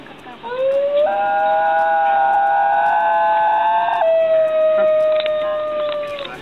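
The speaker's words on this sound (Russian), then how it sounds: "Это пение напоминает смесь из воя полицейской сирены и скрипа." A singing dog lets out one long, loud, wavering howl like a police siren mixed with a squeak, holding a high pitch, jumping upward, then sliding back down over several seconds.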